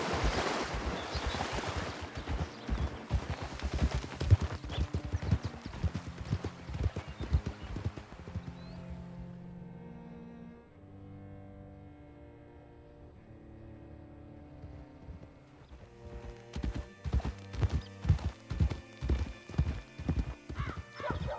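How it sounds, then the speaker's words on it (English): Horse hooves clip-clop in steady rhythm while a rider travels to a creek in Red Dead Redemption 2, loud and close at first, fading under game music midway, then returning strongly with a whinny near the end. "Hitch your horse up here."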